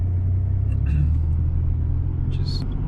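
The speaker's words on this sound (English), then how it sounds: "Here's the normal traffic on your way into Carlisle anytime there's an event at the fairground." Cars idle and creep in a line of traffic heading into Carlisle during a fairground event, giving a steady low engine rumble close by with a couple of faint higher-pitched noises over it.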